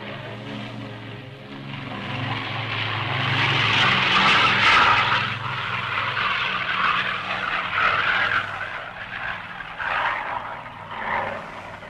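An aircraft engine runs before takeoff, a broad roaring drone that swells to a peak, eases off, then surges again, loud and steady throughout.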